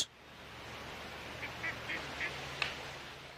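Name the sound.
ducks quacking on a pond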